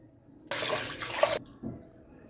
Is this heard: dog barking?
no